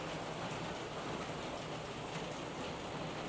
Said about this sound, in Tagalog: Sana po huminto na po yung ulan.